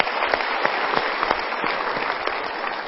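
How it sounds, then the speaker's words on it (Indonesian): Audience applause at a motivational talk, a dense, steady round of clapping from a crowd with a few sharper individual claps standing out, filling the whole stretch without speech. "kita berikan tepuk tangan dulu"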